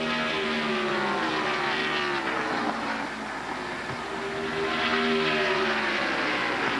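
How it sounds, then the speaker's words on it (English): Race cars at speed during the 1999 Carquest Auto Parts 250, engines roaring in a steady drone with pitch sweeping as cars pass, a continuous mid-level rumble with no talk over it. "Haven't heard much from LaJoy, but now he's starting to rumble in the Bob Evans car."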